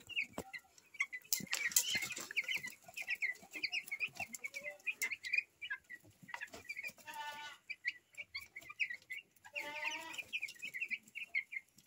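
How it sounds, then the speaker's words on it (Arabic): Thirteen-day-old white broiler chicks peep and cheep in irregular bursts, close and fairly loud, with a few longer trilling calls standing out against a quiet background. "فرخه حلو مصحصح لسه بس هياكل اهو"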